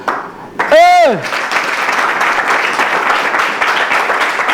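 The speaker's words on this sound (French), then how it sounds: "Et puis, il y a Kengia Neboaku, qu'on doit applaudir." An audience breaks into sustained applause, dense clapping that continues steadily after a brief voice at the start.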